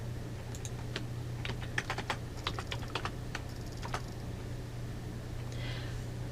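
Quick bursts of keystrokes tap on a computer keyboard while entering a requisition number, an irregular run of clicks in the first four seconds over a low electrical hum, then a final key press before the room goes quiet.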